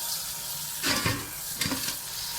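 Water rushes into a large tub holding celery for washing, with a hissing, splashing stream that swells in two stronger bursts over a short, steady wash of noise, close by and without voices.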